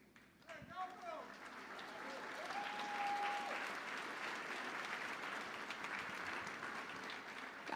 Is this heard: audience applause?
yes